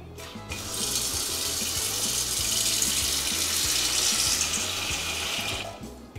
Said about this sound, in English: All you have to do with a pot filler is